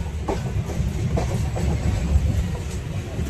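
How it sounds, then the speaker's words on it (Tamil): A passenger train slowly pulls away and rolls along the track on a journey from Tamil Nadu to Odisha, giving a steady low rumble with faint rhythmic wheel clicks close by, without speech. "இப்போ தாங்க அந்த ட்ரெயின் மூவ் ஆகுது."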